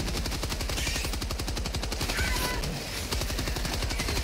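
Rapid automatic gunfire in Helldivers 2 aimed at a charger creature, loud, sustained bursts with a fast, steady rhythm and a brief gap near the end.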